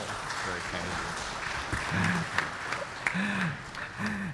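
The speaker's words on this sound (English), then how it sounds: "So give applause to him." An audience applauds at an international summit of religious leaders, steady clapping running under voices that talk over it throughout.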